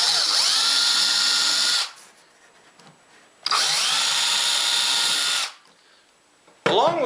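A power drill drives drywall screws through pegboard into a 2-inch wooden stretcher on a table saw outfeed table, two loud sustained whirring runs of about two seconds each, separated by a quieter pause with light handling noise.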